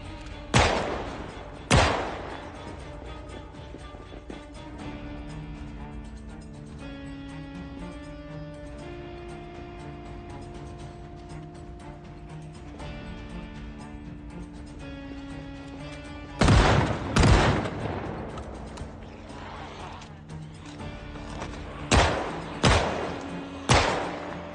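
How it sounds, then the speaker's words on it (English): Shotgun blasts fired in the survival video game Project Zomboid: loud, sharp booms at irregular intervals, two early and a cluster of four near the end, over steady in-game background music. "Okay, shotgun. The shotgun cometh."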